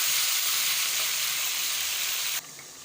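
Chicken sizzling and frying steadily in a hot pan while being browned for nihari, a dense continuous crackle that holds level and then drops abruptly to a softer sizzle near the end, with no voices.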